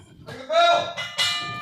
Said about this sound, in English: Senior official Kriss calls for the bell.